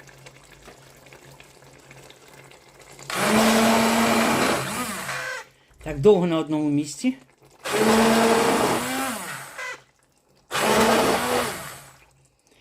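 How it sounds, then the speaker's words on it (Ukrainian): An immersion blender purées cooked courgettes in several loud whirring bursts separated by pauses, with someone speaking briefly between runs. "І тепер я буду її перебивати погружним блендером."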